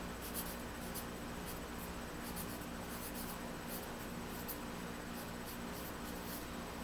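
Pencil or pen scratches out a word on paper during a math lesson, a faint, soft, steady rubbing with light rhythmic strokes over quiet room noise, and no one talks.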